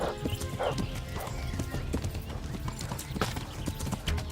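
Horse hooves clip-clop in a rapid, uneven patter in the video game Kingdom Come Deliverance, with a horse whinnying amid the gameplay while people talk and shout over it.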